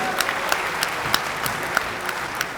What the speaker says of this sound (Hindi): एक बार जोरदार तालियां आप लोग बजा दीजिए